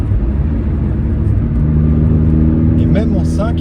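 A first-generation Honda Prelude, light at 890 kg with about 80 horsepower, pulls in fifth gear, its engine hum rising steadily beneath in-cabin road rumble, with voices talking near the end.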